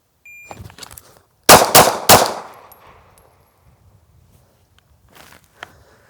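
Handgun shots fired in a shot timer drill: three sharp, loud reports in quick succession, preceded by a few faint handling clicks and followed by quieter metallic sounds and silence.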